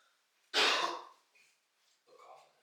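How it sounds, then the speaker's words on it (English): A single short, soft cough comes up close in a quiet room, followed by faint breathing and a small second throat sound. "Little cough in there."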